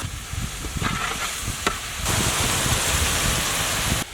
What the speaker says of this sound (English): Cook until onions become brown color.